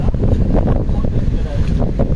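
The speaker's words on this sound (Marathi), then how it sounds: "माझ्यापेक्षा वाऱ्याचा आवाज जास्त येत असेल तुम्हाला" Strong wind roars and buffets the microphone at a seaside cliff near a beach sunset point, a loud continuous rushing gust filling the whole clip.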